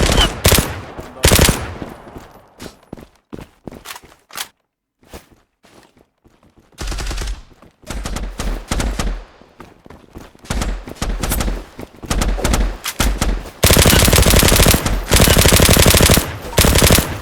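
Loud, sharp gunfire in the online shooter Zula on the Favela map: single shots and rapid automatic bursts in irregular clusters, ending in sustained machine-gun fire, with occasional talk between players.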